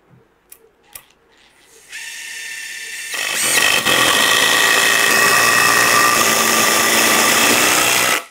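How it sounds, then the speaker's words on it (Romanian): A power driver sinks a CS screw through two wooden beams, pressing them together: a few small taps, then a whirring motor that grows louder and steadier, running close and loud for several seconds before stopping abruptly. "Mai întâi o voi conecta cu un șurub CS, care conectează și presează cele două grinzi împreună."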